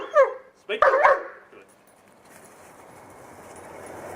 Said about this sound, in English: when you say speak, he gives you a clear bark